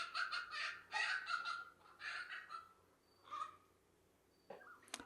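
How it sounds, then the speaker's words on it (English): Chickens squabble and fight close by, bursts of agitated clucking and squawks in irregular clusters with short pauses, ending in a sharp cry. "The chickens are fighting and squabbling in the background."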